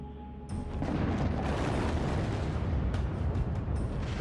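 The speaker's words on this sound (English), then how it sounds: "75 tons of ammonium nitrate explosive shatters the layer of sandstone covering the 15-foot thick coal seam" A deep, rumbling blast of 75 tons of ammonium nitrate explosive shattering sandstone over a coal seam at a mine erupts and rolls on as a sustained roar with crackling bursts, heard from a distance.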